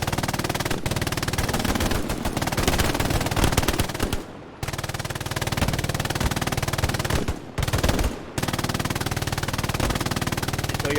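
Sustained machine gun fire in a multiplayer tactical shooter game, loud and continuous with long rattling bursts broken by two brief pauses.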